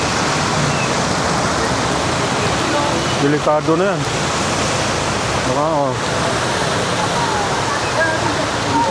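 Heavy floodwater rushing through a street near a market during a downpour, a loud, steady roar of water close by, while people speak briefly over it.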